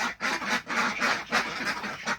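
Sick Chinese ducklings on a farm give a continuous run of high, close peeping calls in rapid overlapping bursts, with no talking.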